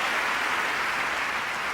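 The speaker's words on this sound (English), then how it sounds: "Oh, go ahead, clap." An audience claps at the 2016 Goldman Environmental Prize award ceremony, a short burst of even, steady applause heard at moderate distance.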